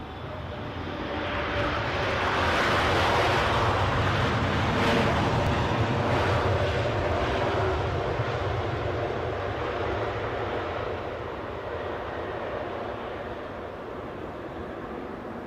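A LATAM airliner passing at London Heathrow airport makes a loud, broad engine roar that swells and then slowly fades, sustained throughout.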